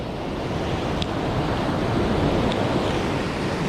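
Sea waves wash steadily against a rocky shore during rock fishing, a continuous loud surf roar with a faint gust of wind across the microphone.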